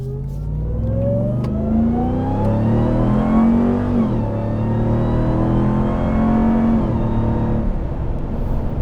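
A RAM TRX pickup truck engine with an aftermarket AFE intake accelerates hard, its pitch climbing steadily, dropping briefly at each gear change, then climbing again, loud and close.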